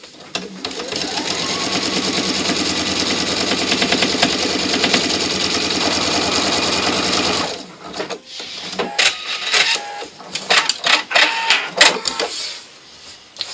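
A sewing machine runs a continuous stitching line along a fold in fabric, whirring steadily for several seconds. It then stops and gives way to clicks and handling noises as the fabric and machine are adjusted.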